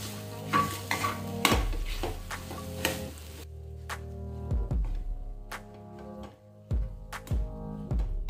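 Sheera is stirred and mixed in a pan, with a spoon scraping and clanking against the metal in repeated, irregular strokes over a faint sizzle. The sound is close and no one speaks.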